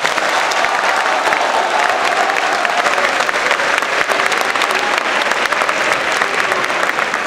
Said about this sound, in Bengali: বলবো একটি জোরে হাততালি হোক ওনার জন্য